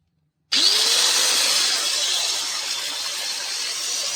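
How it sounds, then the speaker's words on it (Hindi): A repaired Makita 9558HN angle grinder switches on after a moment of silence, spinning up with a brief rising whine and then holding a steady, loud, close motor drone. "इसके बाद हम ग्राइंडर को ऑन करके देखेंगे"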